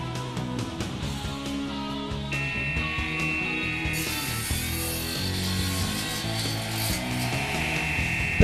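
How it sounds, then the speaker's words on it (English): Wooden mitres being cut for a dado rail during a studio theatre makeover, a steady continuous sawing and rasping of wood that stays loud and even throughout, with no talking. "240 mitres on the dado rail, which had to be cut with precision to ensure a good fit"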